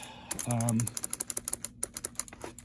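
A cheap $15 mechanical keyboard from eBay clacks under fast, steady typing, with crisp, close keystrokes in a quick run and a brief low hum near the start.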